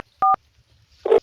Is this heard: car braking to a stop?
no